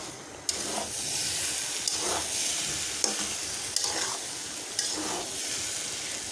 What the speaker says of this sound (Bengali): চাল, আলু আর মিষ্টি কুমড়াটা ভাজা হয়ে গেছে।